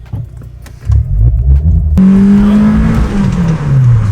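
A car fitted with a Magnaflow performance exhaust idles with a low rumble, then revs hard and loud, its engine note climbing and sagging through several sustained pulls close to the microphone.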